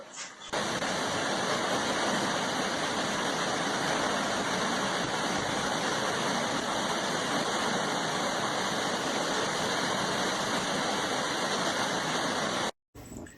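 Steady roaring rush of the Narchyang roadside waterfall on the Annapurna road in Nepal, loud and close, continuous broadband water noise filling the whole stretch with no voices.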